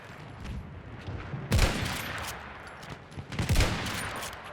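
Gunfire in a first-person shooter video game comes in two loud bursts over a low background of game sound, with no talking.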